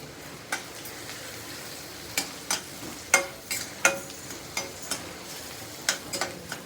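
Masala frying in oil in a pan while leftover chapati chivda is made, giving a low steady sizzle broken by a series of sharp spoon clinks and scrapes spaced about once a second.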